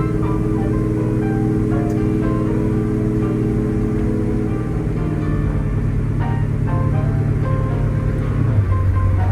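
A 1968 Chevy Biscayne with 71k original miles cruising with the converter locked in overdrive, a steady, smooth engine drone with a low hum that shifts pitch near the end, heard from inside the car.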